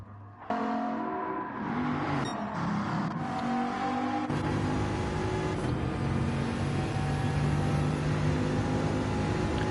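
Gr. 1 race car engine in Gran Turismo 7 at Brands Hatch, droning loud and close with revs climbing through gear changes, a steady unbroken roar on an outlap.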